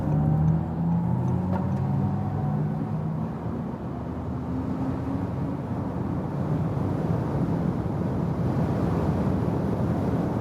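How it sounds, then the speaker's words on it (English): A 2021 Audi e-tron GT electric car accelerates hard toward 200 km/h, its rising electric whine sweeping upward over a loud, constant roar of road and wind noise. "we will accelerate it out to 200 kilometers an hour or 125 miles"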